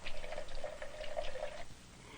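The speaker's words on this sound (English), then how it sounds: "Running warm water over the top" Warm water from a tap runs steadily over the lid of a stuck paint jar, a close, continuous splashing pour that stops abruptly near the end, leaving quiet room tone.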